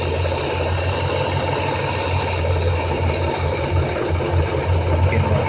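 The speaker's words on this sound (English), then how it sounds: "it sounds like the click when an injector would open" A car engine idles steadily up close with a fast, even mechanical ticking running through the hum, like a fuel injector clicking open.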